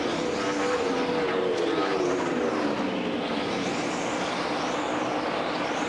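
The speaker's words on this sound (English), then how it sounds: "he's really driving this car hard" NASCAR Sprint Cup stock cars racing at Dover in the 2014 AAA 400, engines roaring loud and continuous with rising and falling pitch sweeps as cars pass by, no voices.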